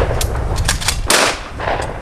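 Loud nearby shotgun blasts at an outdoor clay shooting range, a few sharp reports in quick succession with one especially strong shot midway, no talking.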